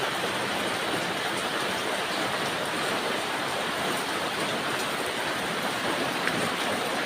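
Steady, dense patter of rain falling close by on plants, a continuous hiss with no voices and no pauses.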